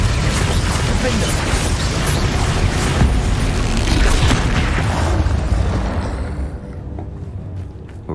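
Spell blasts go off in a Hogwarts wizarding video game: a dense, loud run of booming explosions and crackling bursts that lasts most of the stretch, then fades to a quieter tail.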